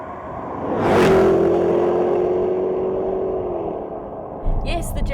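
A Jaguar XKR engine snaps up in revs as the throttle is stabbed, then holds a steady, smooth rising drone for a few seconds before easing off, loud and close, with a brief thump near the end.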